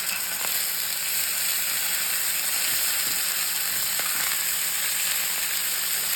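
Chicken crisping in a hot frying pan gives a loud, steady sizzle and crackle that runs unbroken throughout, with a few faint scrapes and clicks beneath.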